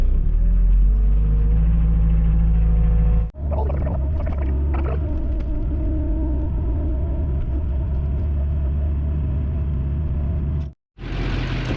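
A mini excavator engine rumbles at a low, steady idle, loud and close, while the machine is loaded onto a trailer, with brief breaks in the drone and shifting tones as it moves.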